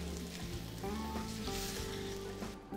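Dried beef fries in a hot pan with a loud, continuous sizzle and crackle, close up, with occasional stirring scrapes and no voices.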